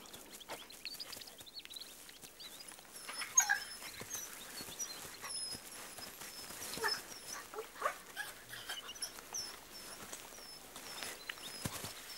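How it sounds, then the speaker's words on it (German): Ethiopian wolf pups playing in the highlands, making faint, scattered whimpers and yips among soft rustling and scuffling, quiet and fairly distant throughout. "Durch das gemeinsame Spiel wird Megeti immer routinierter im Umgang mit den wilden Welpen."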